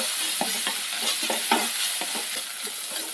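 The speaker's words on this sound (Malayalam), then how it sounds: "ഈ ഇഞ്ചിയുടെയും പച്ചമുളകിൻ്റെ ഒക്കെ ഒന്ന് പച്ചമണം മാറുന്നത് വരെ ഒന്ന് വഴറ്റിയെടുക്കാം" Ginger and green chili sauté in a hot pan with a steady, close sizzle, broken by irregular scraping stirs of a spatula throughout; no voices.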